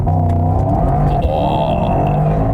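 A 2025 Mercedes-AMG GT 63 V8 in race mode holds at launch-control revs, a loud, steady, tight engine drone with harmonic layers and no speech over it.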